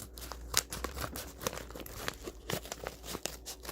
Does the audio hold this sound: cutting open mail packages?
yes